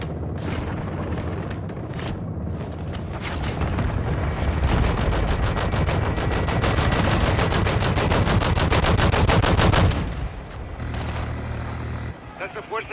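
Rapid gunfire rattles through a Modern Warfare 2 battle, with sustained automatic bursts and heavy booms building to a dense, loud barrage before easing off, while voices speak over it.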